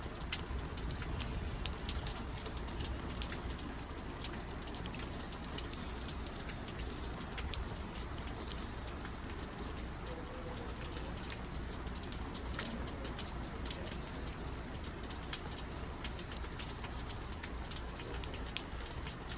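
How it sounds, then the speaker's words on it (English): Steady, dense rainfall patters onto surfaces at the Chama railway station in New Mexico, a constant hiss of drops with scattered drips and faint pigeon coos in the background, no voices. "It's been pouring rain."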